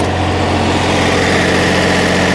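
A military MEP 1040 diesel generator runs under load with its auxiliary cooling fan switched on, a loud, steady, droning engine hum with a constant whirring layer, close by and without speech.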